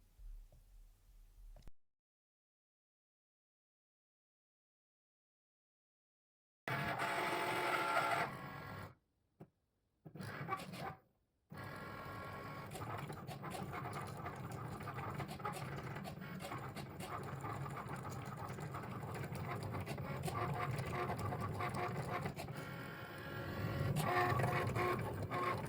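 A Cricut Maker cutting machine cuts washi tape with a faint, steady mechanical whir and clicking carriage movements. The sound starts after a few brief silent gaps.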